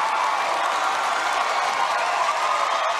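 A World of Dance final-routine audience claps and cheers in a dense, continuous roar of applause, fairly loud and even across the moment with no clear individual voices.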